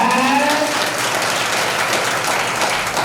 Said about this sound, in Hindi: मेरे धर्मराज के लिए एक बार जोरदार तालियों से स्वागत।